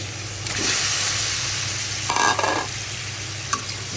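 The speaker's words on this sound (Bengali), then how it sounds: "মশলাটা কষে গেলে এখন আমি এই মাছটা দিয়ে দেব" Large gajar fish pieces going into frying masala and being stirred, a close, loud sizzle with scraping stir strokes and a few brief clatters, no voices.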